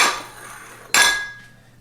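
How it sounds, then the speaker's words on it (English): Kitchen items are shifted aside on a counter to make room for a big pan while baking keto almond chocolate chip cookies: a metallic clank, then a louder ringing clang of the pan that fades out. Nobody talks. "I'm going to move some stuff out of the way here because we're going to get our big pan over here"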